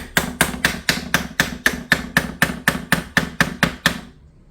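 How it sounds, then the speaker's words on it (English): A screwdriver taps the trigger guard of a U.S. Model 1903 rifle in about fourteen sharp, evenly spaced metallic knocks, loud and close, before stopping into silence. "Give it a tap with the screwdriver."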